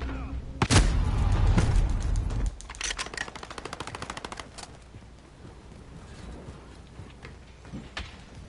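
An FAL rifle fires in a video game: a loud close burst of rapid shots, then a quicker string of evenly spaced cracks, followed by a few scattered single shots fading into quieter game ambience.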